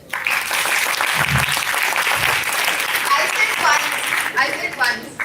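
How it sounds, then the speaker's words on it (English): A crowd claps together in a loud burst of applause, with cheering and voices mixed in toward the end. "Clap once if you are so excited for the event."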